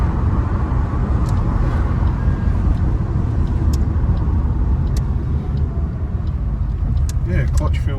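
A hatchback car being driven on the road, with a steady low engine and road rumble throughout and faint higher mechanical ticks, ending in brief squeaky sounds near the close.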